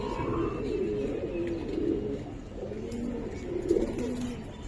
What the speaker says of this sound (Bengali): মানে চোখে ধরার মতো দুইটা কবুতর